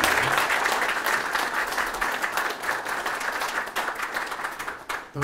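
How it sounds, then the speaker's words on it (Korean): Sustained applause from a crowd, dense and steady clapping for several seconds, fading slightly near the end. "큰 박수."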